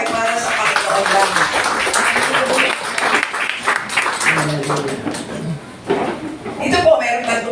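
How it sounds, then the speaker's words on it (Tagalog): Church congregation applauding, a sustained wave of hand clapping with a voice speaking over it, fading briefly before the clapping swells again toward the end. "Ang palakpak po ay para sa Panginoon lang."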